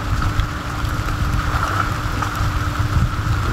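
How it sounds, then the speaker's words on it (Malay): Steady rain falling outdoors at a riverside fishing spot in a village, a constant close hiss with low rumbling wash underneath, loud and unbroken throughout, with no talk. "Masih hujan lagi ni."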